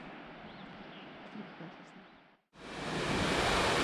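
A remote waterfall in a gorge, its flow choked by fallen trees, makes a steady rushing roar that cuts out for a moment and then returns louder and brighter.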